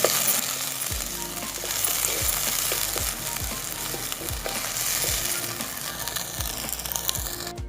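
Two large tomatoes sautéing in oil for a cabbage gravy, giving a loud continuous sizzle with repeated stirring scrapes throughout and no talk.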